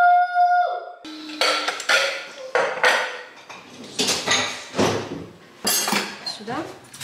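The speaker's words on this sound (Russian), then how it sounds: "Нужно чистую посуду. Вытащить с машинки." Clean dishes being unloaded from a dishwasher: close, repeated clinks and clatters of plates, pots and cutlery in an uneven rhythm, with voices talking alongside.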